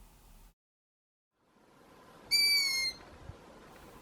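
Young owls giving a burst of high, wavering begging calls over faint outdoor background noise, preceded by a short stretch of silence.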